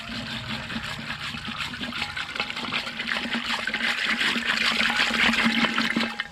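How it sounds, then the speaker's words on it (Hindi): Soaked strawberries mashed by hand in a small amount of water in a clay pot, giving a continuous wet sloshing and squelching that grows steadily louder, with no talking. "इसको ऐसे करके हम मैश कर लेंगे थोड़े से पानी में"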